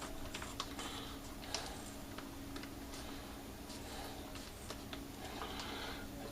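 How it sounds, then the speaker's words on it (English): A knife or scissors cutting through the plastic bag of a crushed-grape wine kit pack, a series of small, quiet ticking snips and crinkles against a steady background hum. "You want to cut the bag"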